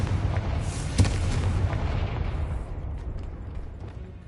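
A Confringo explosive spell goes off in the Hogwarts Legacy video game, a booming blast with a sharp crack near the start, then a dense rumbling roar that slowly fades.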